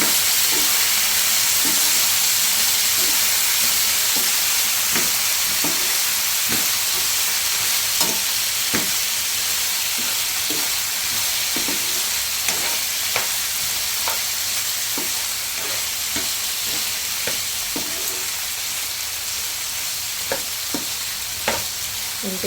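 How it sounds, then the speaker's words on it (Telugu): Ingredients fry in one large pan, a constant close sizzle broken by regular scraping stirs and light knocks of a spoon against the pan. "నేను అన్నీ ఒక పేనము పెద్దగా ఉంది కాబట్టి నేను అన్నీ ఒకే దాంట్లోనే వేయించుకున్నాను."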